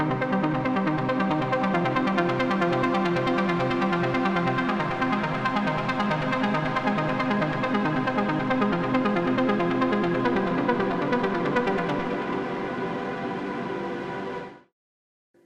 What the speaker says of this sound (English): And you're gonna hear why it's a Prophet 5 arpeggiated.